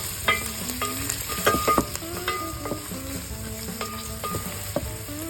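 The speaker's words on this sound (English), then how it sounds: "First, heat oil in a pot and saute garlic" Garlic and onion sautéing in hot oil in a pot, a steady close sizzle with clinks and scrapes of stirring over a faint background hum.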